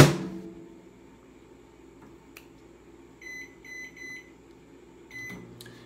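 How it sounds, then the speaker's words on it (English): Microwave oven running with a quiet, steady low hum in a home kitchen, a sharp clunk at the start and a few short electronic beeps near the end. "this microwave is so quiet too"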